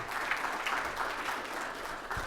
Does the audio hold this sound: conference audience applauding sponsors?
yes